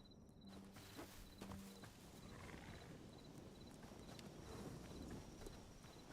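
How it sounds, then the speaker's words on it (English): Faint hoofbeats and eerie creature noises from an undead horse in the video game Hytale, heard as scattered clopping against a steady background hum. "Is that my undead horse?"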